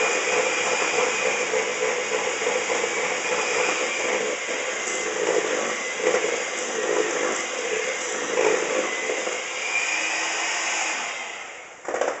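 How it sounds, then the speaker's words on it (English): An electric mixer runs on high, beating cookie dough for pumpkin cookies with a steady, loud motor whir that holds throughout and briefly dips near the end. "Couple minutes on high should do it on your mixer."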